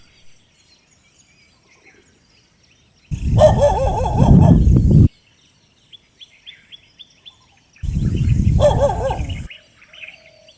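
Dholes and stray dogs give two bursts of loud, harsh barking and howling, each lasting about two seconds, separated by quiet with faint bird chirps in the background.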